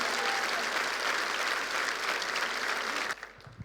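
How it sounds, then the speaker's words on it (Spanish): A church congregation claps loudly and steadily in a full, sustained round of applause that cuts off abruptly near the end, leaving a few scattered sounds. "Le damos un aplauso fuerte al Rey de Reyes"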